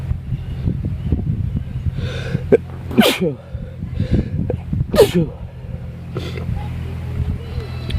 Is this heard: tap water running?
no